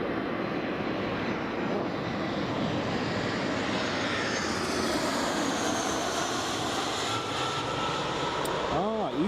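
An EasyJet airliner coming in to land at Newcastle Airport, its jet engine roar loud and steady throughout, broadband and sustained, with a faint voice briefly underneath.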